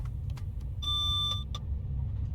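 The ZSI-90 train safety system in a Swiss cab on the Bernina line sounds a single steady electronic warning beep lasting over half a second, clear above the constant low rumble of the moving train.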